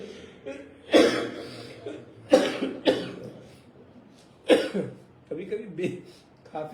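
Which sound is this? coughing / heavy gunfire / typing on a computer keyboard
coughing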